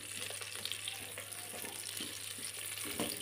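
Onions fry inside a rice cooker with a steady, close sizzle, punctuated by scattered stirring clicks and scrapes, under a constant low electrical hum and with no talking.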